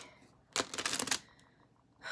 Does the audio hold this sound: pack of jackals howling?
no